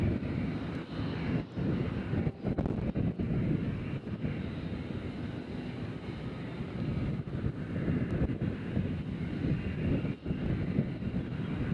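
A JetBlue airliner taxis toward the terminal at Nashville International Airport, its low engine rumble steady at middle distance beneath gusty wind buffeting the microphone.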